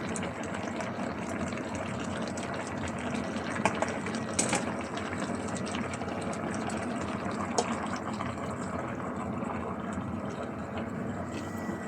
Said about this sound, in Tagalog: ibinuhos ko yung kalahating gata